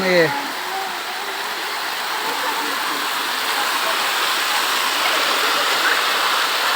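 Steady broadband rush of a waterfall, with people walking nearby over slippery wet ground; the roar stays constant and fairly loud throughout, with a brief voice at the very start.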